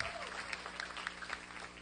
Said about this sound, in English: Can I get a clap or something?